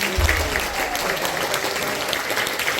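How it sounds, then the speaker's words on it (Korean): Audience applause fills a church hall during a Korean Independence Movement Day prayer service, a dense, steady burst of many hands clapping close by for about three seconds. "박수로 맞아주시죠"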